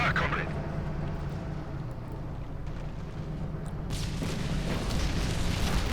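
Battle explosions and artillery booms roll through a Company of Heroes 2 match, a dense rumbling barrage with a louder burst near the end, heard under continuous commentary.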